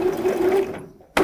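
A sewing machine runs a brief burst of stitches on a French seam in a child's romper, then stops and restarts with a short whir, close and clear.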